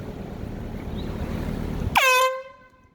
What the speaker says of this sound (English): Sorry for the noise, guys. You gotta blow the air horn.